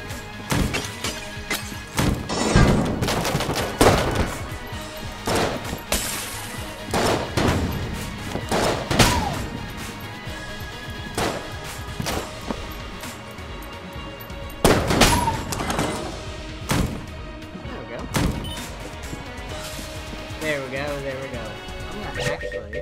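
Phoenix flare gun firing in the video game Enter the Gungeon, a series of sharp, irregular blasts and impacts scattered across a busy stretch of game noise, with a person talking throughout.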